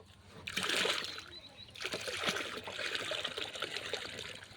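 Water splashes and trickles as small fish are released from a container into a small farm pond, in several close, moderate bursts of pouring and splattering.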